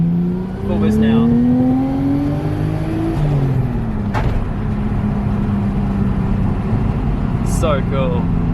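An R33 Nissan Skyline's turbocharged engine climbs under full boost in a sustained rising drone with gear-change dips, heard from inside the car as people talk over it.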